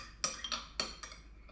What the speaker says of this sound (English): I'm going to stir that in and then let it sit for about 5 minutes until it gets foamy